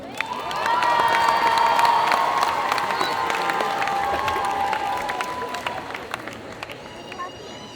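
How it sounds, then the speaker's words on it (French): A convention audience bursts into sustained applause and cheering for a One Piece Wano Arc cosplay group at a group cosplay contest, a loud crowd din that holds for several seconds before gradually thinning out. "je vous demande un tonnerre d'applaudissements pour Groupe Licky pour One Piece Arc Wano"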